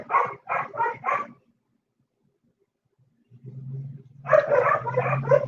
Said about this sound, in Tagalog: Patawarin na ang aking mga dogo. Napakaingay nila.